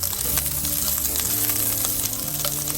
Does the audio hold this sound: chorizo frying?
yes